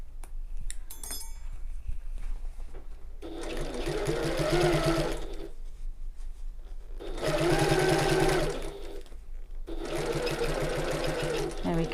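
A sewing machine stitches around a tote bag in three separate bursts of several seconds each, close and clear, with quiet handling noises in the gaps between runs.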